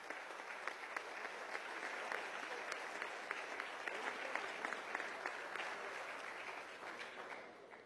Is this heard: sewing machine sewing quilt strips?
no